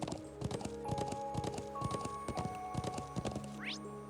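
Horse hooves clip-clop in quick, steady strides through a video game landscape, loud and close, with game music tones and a brief rising whistle near the end.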